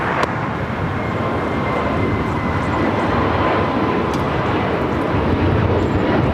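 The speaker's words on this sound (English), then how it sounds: "This is Spirit Airlines 2759 taking off to Fort Lauderdale on the A320neo" A Spirit Airlines Airbus A320neo taking off at LAX, a loud, sustained broadband jet engine roar that holds steady throughout, heard from nearby on the airfield with no talking.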